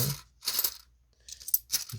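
Coins from a bank coin roll clatter as they drop onto a surface during sorting, several close, bright metallic bursts in quick succession with short quiet gaps between them.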